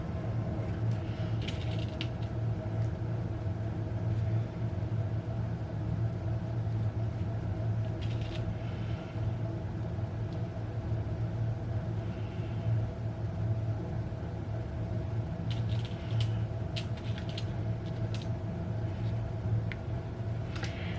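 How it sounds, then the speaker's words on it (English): A sewing machine runs a straight seam up the side of a dress, giving a steady mechanical whir and hum that holds throughout, with faint clicks and ticks layered on top. "So we're going to sew straight up this side."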